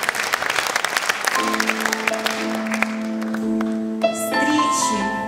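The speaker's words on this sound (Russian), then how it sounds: "Ваши аплодисменты, наш теплый праздничный зал." Festive hall audience applauding at a talent concert, brisk clapping that gives way to sustained musical tones as the music begins.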